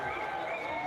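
Crowd of GE fans cheering and applauding at a Valorant esports watch party, a dense, steady roar of voices and clapping that fills the whole moment.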